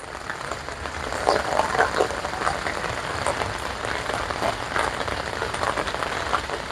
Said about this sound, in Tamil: பாருங்க எப்படி மழை பெய்யுதுன்னு அடிச்சு ஊட்டி கொண்டிருக்கு மழை